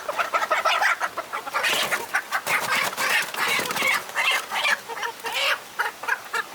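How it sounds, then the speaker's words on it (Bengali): A native country rooster clucks and calls near the microphone in quick, uneven bursts, loud and continuous with no talking. "একদম খাঁটি দেশি মোরগ"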